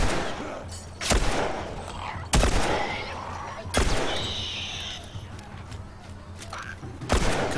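Gunshots in The Last of Us video game, four loud, sharp single blasts spaced a second or more apart, each with a decaying echo, with in-game sounds and a faint voice between them.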